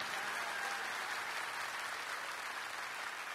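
A church congregation applauds softly and steadily for about three seconds, the clapping faint and thin as if heard from a distance, with no voices over it.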